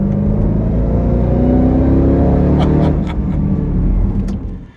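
A Jeep Grand Cherokee Trackhawk accelerates hard with a loud, steady engine roar that climbs in pitch, then eases off as the sound fades at the end.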